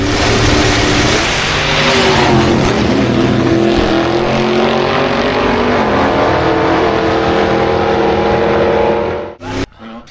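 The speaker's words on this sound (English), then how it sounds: "This is a homemade exhaust system." An Austin A40's engine revs loudly and roughly through a raw, throaty homemade exhaust for several seconds, then cuts off abruptly near the end.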